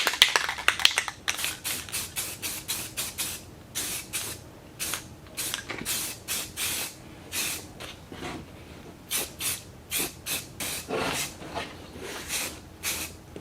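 Spray can hissing out silver touch-up paint onto a racecar part in a paint booth, in a run of short, close bursts with brief gaps between them and no talking.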